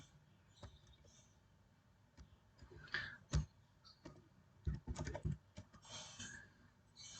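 Keystrokes on a computer keyboard as code is entered, a quiet run of irregular clicks and taps with a few louder clustered bursts, no talking.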